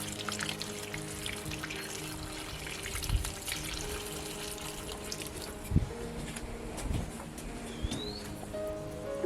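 Water pours and splashes steadily as peace lilies and other potted plants are watered on a back deck, with a few louder splashes and faint birdsong in the background.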